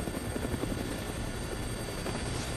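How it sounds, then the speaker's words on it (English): A helicopter in a Dead Rising video game cutscene gives off a steady, loud rotor buzz and chop. It sounds close and constant throughout, with no voices over it. "Looks like taking a helicopter was the way to go."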